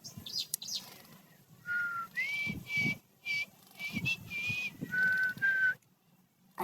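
A person whistles a melodic tune in clear, sustained phrases with short pauses between them, close and fairly loud.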